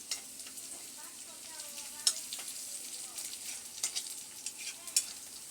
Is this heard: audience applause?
no